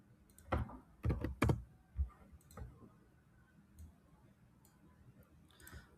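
Keys click on a computer keyboard in a few short bursts of close, fairly quiet taps followed by sparse single clicks.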